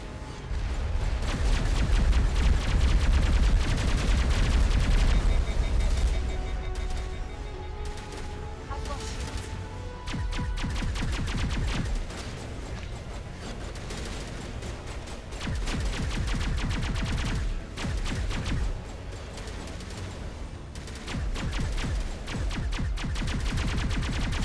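Rifle gunfire in the video game Mass Effect, loud sustained bursts of shots with booming low rumble, continuing in waves with brief lulls, mixed with game music and effects.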